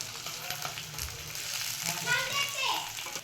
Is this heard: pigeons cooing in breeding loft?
no